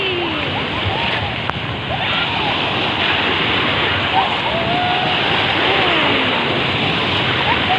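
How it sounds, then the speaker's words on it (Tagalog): Loud, continuous roar of strong sea waves crashing on the beach at San Fabian, Pangasinan, Philippines, with broadband wash and splashing, steady throughout with no pauses. "ang lakas ng alon ng dagat"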